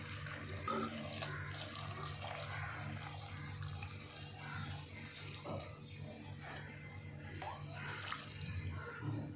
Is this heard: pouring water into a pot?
yes